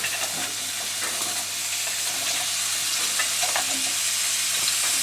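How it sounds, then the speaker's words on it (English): Diced celery and onion, a chunky mirepoix, hit the hot oil in a pot for a Sri Lankan-style chicken roulade dish, giving a steady, loud broadband sizzle with light stirring clicks throughout, no talking. "So I'm gonna add all the vegetables in."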